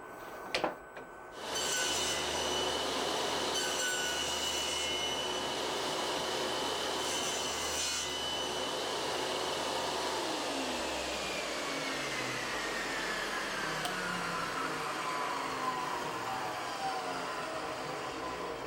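A saw on a Triton Workcentre cuts finger joints: after a brief knock, a loud, steady whining drone runs continuously for the rest of the clip, with no talking.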